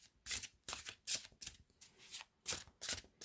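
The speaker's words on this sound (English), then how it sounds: "So these shuffle nicely" Tarot cards are riffle-shuffled by hand in about seven quick crisp bursts with short gaps between, close and clear, with no talking.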